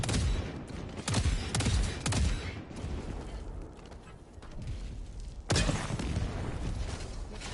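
Orbital strike explosions in Helldivers II land as a heavy barrage, several loud booming blasts in quick succession with rumbling tails, a pause of lower rumble, then another big blast.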